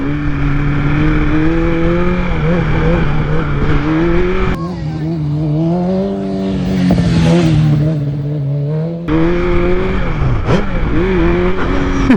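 BMW M1000RR motorcycle engine revving hard during a wheelie, a loud, sustained high-pitched roar that rises and falls in pitch, briefly dropping away before surging again.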